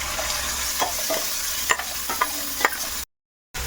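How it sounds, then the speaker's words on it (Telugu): Crackling sizzle of tempering spices frying in hot oil for tomato chutney, with a few sharp pops and stirring scrapes, broken by a brief dropout near the end. "ఇప్పుడు తాలింపు వేసేస్తున్నాం"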